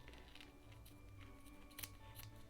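Scissors snip through yarn close by while a gingerbread yarn wreath is being assembled, a few quiet clicking cuts over a steady low background hum.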